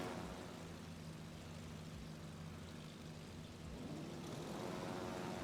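Carrier-launched aircraft in the naval video game World of Warships approach with a faint, steady propeller drone that swells slightly near the end, alone without talk.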